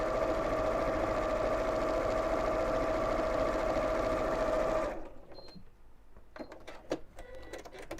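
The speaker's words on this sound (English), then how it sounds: "sew to here and stop and snip and turning gap and carry on sewing" A sewing machine stitches fabric at a steady, fast hum for about five seconds, then stops, leaving quieter clicks and small handling sounds.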